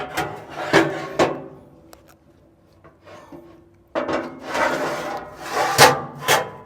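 Heavy steel cooking plate scraping and clanking as it slides into a new Shirley Fabrication 24x60 Straightback offset smoker, several sharp metallic knocks and longer grinding rubs, close and fairly loud, with quiet gaps between bursts.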